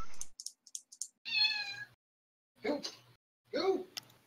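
During a Dungeons and Dragons game night, a player imitates a cat with a drawn-out mewing call, surrounded by a few short clicks and brief voiced squeaks, fairly quiet and close.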